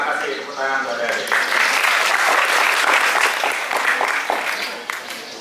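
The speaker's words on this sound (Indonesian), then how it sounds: "Terima kasih tepuk tangan adik-adik." Junior high school students applauding at an installation ceremony for a school student anti-drug group in Bali, a loud, dense round of clapping that swells, holds steady, then tapers off.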